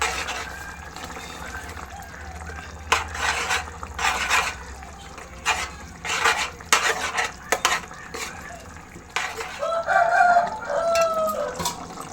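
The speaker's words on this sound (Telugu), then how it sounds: "అది వేసి ఒకసారి బాగా కలుపుకుందాం." A spoon stirs gongura prawn curry in a pot, cooked gongura leaves being mixed into the simmering prawns, giving intermittent scraping and squelching strokes in uneven bursts over a low sizzle, with no talk.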